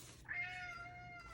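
A domestic cat gives a single short, faint meow at close range in a quiet room.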